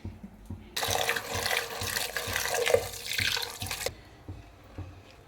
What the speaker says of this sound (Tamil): இதை லைட்டாக தண்ணி ஊற்றி வாஷ் பண்ணி எடுத்துக்கலாம்.